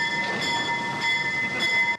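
A replica steam train pulls into a station at a British railway anniversary event, a loud steady rumble with sustained tonal ringing and rhythmic pulsing, cutting off abruptly at the end.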